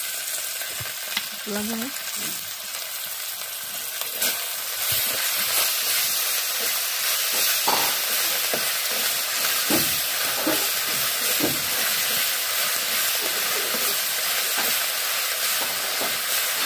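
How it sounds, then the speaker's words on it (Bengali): Ginger and garlic frying in hot oil in a pan, a steady dense sizzle throughout with occasional stirring scrapes and faint background sounds, no clear talk over it. "আদা রসুনটা তেলে কিছুক্ষণ ভাজার পর এলো"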